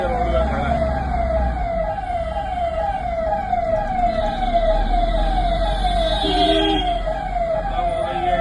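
An ambulance siren wails in steady, repeating rising-and-falling sweeps while stuck in dense Mumbai traffic, loud and close over a constant rumble of engines and road noise throughout.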